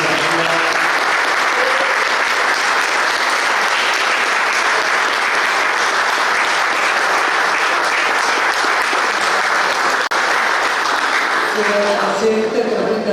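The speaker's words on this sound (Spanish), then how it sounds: "Fuerte aplauso." Large crowd at a political tribute ceremony in Buenos Aires province bursts into strong, continuous applause, a dense roar of clapping held at full volume for over ten seconds, with faint voices emerging as it tapers at the end.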